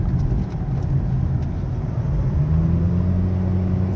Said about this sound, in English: We'll take this turn and we'll hit the brakes here.